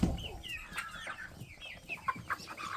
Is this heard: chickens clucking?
yes